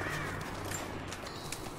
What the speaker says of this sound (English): Don't remember crows here.